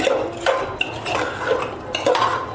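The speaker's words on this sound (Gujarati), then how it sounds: "હવે આપણે ભાત અને સબ્જી સારી રીતે મિક્સ કરી દઈશું।" Cooked rice and vegetables stirred together in a metal pan, with repeated scraping strokes and light clanks of a spoon against the pan, close and steady with no talk.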